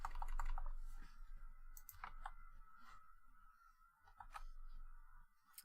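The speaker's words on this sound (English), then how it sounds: "let's go back here and start typing SSH at least, right?" Quiet typing on a computer keyboard, a scattered run of light clicks and keystrokes in short bursts with pauses, faint and close, with no voices.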